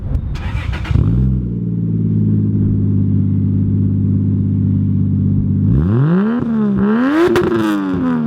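A Lexus IS200 fitted with a Toyota 1JZ-GTE engine catches, settles into a steady loud idle, then revs hard up and down in rising sweeps as it pulls away, close and alone.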